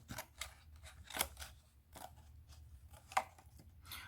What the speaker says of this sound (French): je pense que je vais le faire plutôt au ciseau